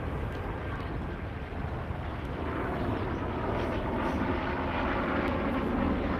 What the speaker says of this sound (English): Just wait for this plane.